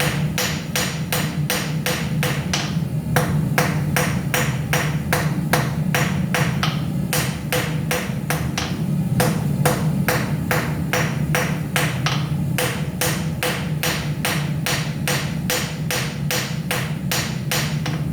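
Hot forged steel being hammered to taper and flatten it for a Christmas decoration, a long steady run of loud, closely spaced ringing blows over a constant low forge roar, with no talk.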